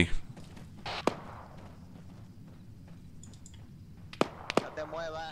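A few sharp gunshot cracks ring out at irregular intervals over a low ArmA 3 game soundscape, with people talking in the background.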